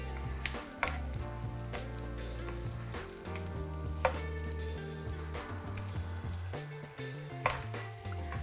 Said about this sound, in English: we're slow poaching the rest of it in this butter, garlic, thyme